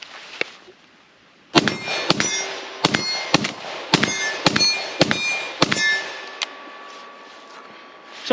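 Palmetto AK-102 rifle in 5.56 firing outdoors, about nine sharp ringing shots in an uneven rapid string after a quiet pause, loud and close with metallic echo, no talk.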